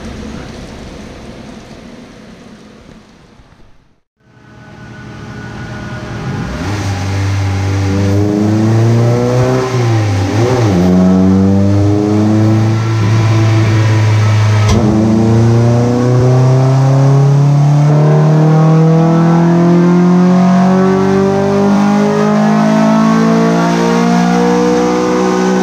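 An EK drag car engine revs hard on a dyno, climbing steadily from a low rumble into a loud, sustained high-rpm wail after a brief quiet pause, with no voices.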